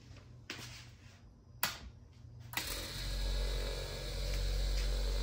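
After a few sharp clicks of a switch, the small motor of a 60-watt heater starts and runs with a steady low hum and faint high whine, quiet and continuous.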